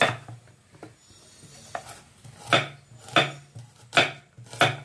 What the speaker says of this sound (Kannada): ಮತ್ತು ಈರುಳ್ಳಿ ಕಟ್ ಮಾಡ್ಕೊತೀನಿ